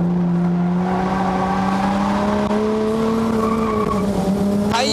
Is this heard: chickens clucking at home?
no